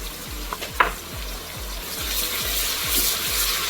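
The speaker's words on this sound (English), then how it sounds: "give it a good stir" Seasoned Nigerian native gravy frying in a pot and stirred, a steady sizzling hiss under rhythmic low scraping strokes of the spoon, with a couple of sharper knocks early on.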